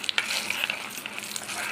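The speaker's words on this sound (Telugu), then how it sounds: "ఇంకా ఈ పోపు అంతా బాగా ఫ్రై చేసుకోవాలి." Tempering spices with a pinch of asafoetida fry and are stirred in a pan for tomato dal, giving a steady close sizzle with scraping stir strokes and no talk.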